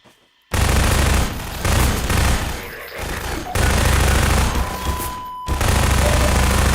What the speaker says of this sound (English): Should just use the machine gun.